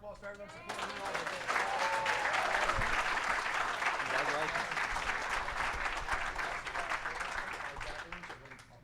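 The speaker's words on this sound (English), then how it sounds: "Everybody give a round of applause for everyone supporting Lyn Ulbricht." An audience at an art auction applauds, many hands clapping in a dense, steady burst that swells after a moment and then slowly thins out toward the end.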